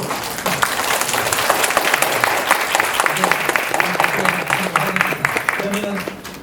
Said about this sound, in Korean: 발표자와 토론자분들께 박수를 쳐주시는 것으로